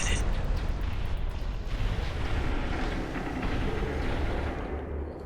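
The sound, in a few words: explosion in the video game Armored Core VI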